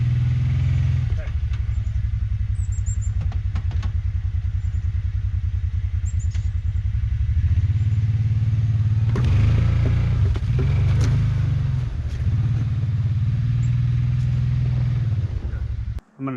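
A Honda Fourtrax 300 ATV engine runs steadily up close with a deep, loud rumble, surging and revving a few times midway before cutting off abruptly at the end.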